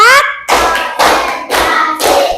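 Four or five sharp claps land in a steady rhythm, close and loud, each ringing briefly before the next.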